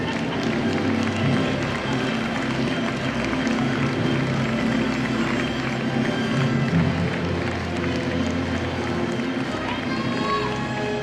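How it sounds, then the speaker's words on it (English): Audience applause in a large hall at a county academic decathlon, a dense, steady wash of many hands clapping that carries on evenly for about eleven seconds, with crowd noise mixed in. "A round of applause for Lutheran High School."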